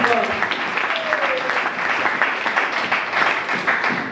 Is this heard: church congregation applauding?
yes